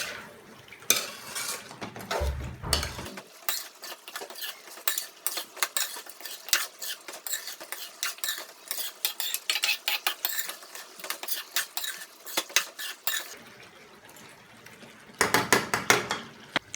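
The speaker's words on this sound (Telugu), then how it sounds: "one small cup curd add చేసుకొని కర్డ్ కలిసేలా కలుపుకొని" A spoon stirs curd into chicken in a pan, with rapid close metallic scrapes and clinks continuing steadily over a soft background sizzle.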